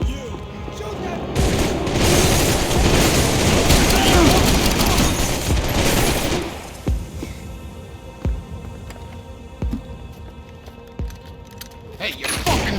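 Gunfire in the Max Payne 3 video game: a dense, loud burst of shots for several seconds, then sparser single cracks and booms spaced irregularly, with voices shouting over the fighting.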